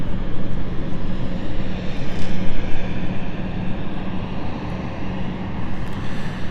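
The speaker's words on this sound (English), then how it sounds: "It's an Embraer 190 SR." An Embraer 190 SR jet airliner at London City Airport gives off a loud, continuous rumbling engine roar with slight swells in strength, close by and steady, no voices.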